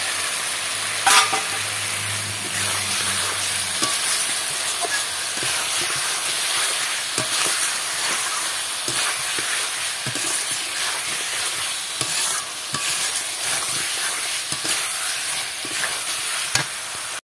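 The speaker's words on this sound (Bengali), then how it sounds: "আর একটু ভালো করে কষিয়ে নেব। হয়ে গেছে, ভেজে রাখা আলুগুলো দিয়ে দিচ্ছি।" Fish roe curry with fried potatoes sautéing in a pan gives a steady, close sizzle and hiss throughout, broken by scattered scraping stirs and a few sharp clicks, with no talking.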